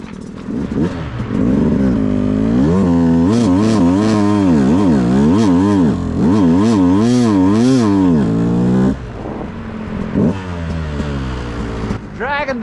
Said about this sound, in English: we're just gonna putt around, kind of use the clutch, just keep the clutch kind of slipping all the time